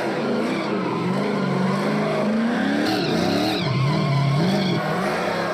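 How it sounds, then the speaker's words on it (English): A NASCAR Pinty's Series race car engine roars steadily while tires squeal and skid through repeated celebratory donuts, loud and close, with pitch swooping up and down, without over-revving. "He does the donuts, but he's not over revving the engine."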